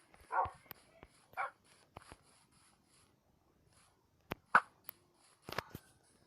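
A dog gives several short whimpering yelps in separate bursts, a couple early on and a louder cluster near the end, with sharp clicks in between and quiet gaps, fairly close.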